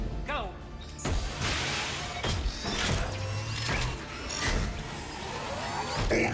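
A mech moves in Mass Effect 2 with heavy mechanical clanking, creaks and crashing thuds. The loud, irregular impacts recur over several seconds against a continuous battle din.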